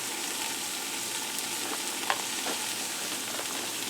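Steak and portabella mushrooms sizzle steadily in a cast iron skillet, a close, constant frying hiss with a few faint pops and no voices.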